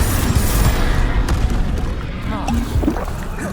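A Confringo fire spell detonating in Hogwarts Legacy, a deep booming blast with a rumbling, crackling tail over sustained game background noise, loud and close.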